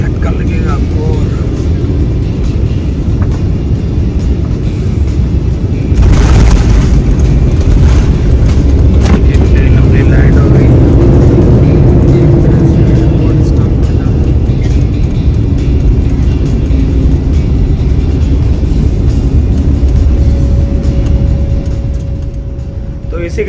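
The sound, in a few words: airplane landing on runway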